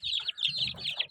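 Pale Brahma chicks give high, rapid peeping cheeps in quick repeated bursts, close and clear, with soft low clucking beneath.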